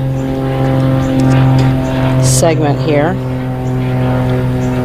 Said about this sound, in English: Pardon the airplane.